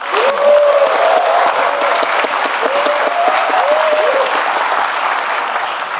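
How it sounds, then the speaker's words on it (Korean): Sustained applause from a crowd at a town hall meeting in Jeonbuk, steady and fairly loud, with faint voices or cheers rising above the clapping early on before it gradually eases. "아마 기죽지 말라고 이렇게 박수를 쳐주신 것 같습니다."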